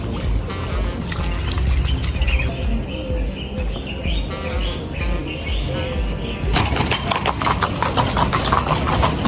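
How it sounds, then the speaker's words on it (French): Horses clip-clop along a street in Marrakech, their hooves striking in a steady rhythm close by, with bird chirps and busy street noise around them that grows louder near the end. "Les pauvres chevaux."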